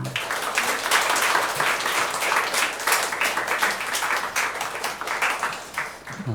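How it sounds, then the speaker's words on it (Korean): Broad, dense applause from a church congregation during a Sunday worship service, steady and full throughout with a slight dip near the end. "하나님께 감사와 영광의 박수를 올려드리겠습니다"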